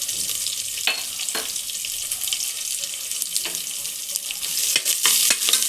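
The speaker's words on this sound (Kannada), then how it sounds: "ಇದನ್ನು ಒಂದು ನಿಮಿಷ ಫ್ರೈ ಮಾಡಬೇಕು" Mustard seeds, curry leaves, garlic and onion sizzle loudly in a hot pan with a steady, crackling hiss, while a spatula stirs and scrapes now and then.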